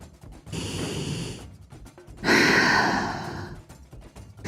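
Deep breaths during a yoga shoulder stretch: two long, close airy exhales, the second louder and rougher, separated by a brief pause, with no speech.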